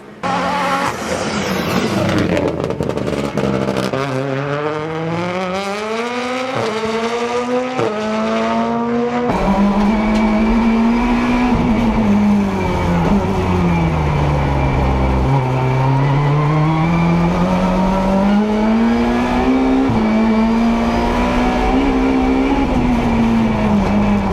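A 600-horsepower all-wheel-drive Volkswagen Beetle Global Rallycross car's engine roars continuously, revving up through gears with rising and falling pitch, loud and close, tires occasionally squealing.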